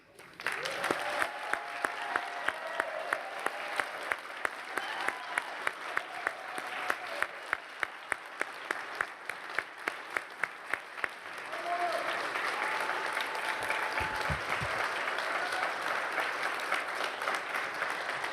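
At the NHTI commencement ceremony, a large audience applauds graduates rising to their feet, a sustained roar of clapping with rhythmic pulses and crowd voices, swelling louder in the second half.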